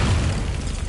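Confringo fire spell going off in Hogwarts Legacy on PS5, a single heavy boom with a rumbling low body that stays loud and dense for a second, no talk over it.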